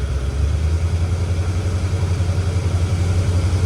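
Engine of a C4 Corvette idling roughly after the choke opens, a steady low uneven rumble with a slight pulsing lope, close and continuous throughout, with no talking.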